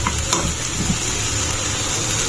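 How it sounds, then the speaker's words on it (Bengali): Mixed vegetables and cauliflower fry in a pan, giving a steady, dense sizzle that fills the whole moment, with a faint clink or two near the start and no talking. "সবজিগুলো একটু ভাজি করবো"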